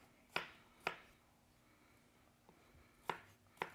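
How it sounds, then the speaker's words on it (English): A knife chops food on a cutting board while a seafood lasagna is being made, with four or five sharp, separate knocks spaced irregularly over a quiet kitchen background and no talk. "he's chopping that up nice and fine"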